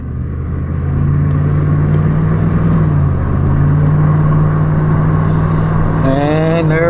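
A 2010 Ford F-150 pickup with new slotted front rotors and pads slows from 40 mph to a stop, heard from inside the cab as a steady low road rumble and whir that fades with speed, ending with a brief rising whine.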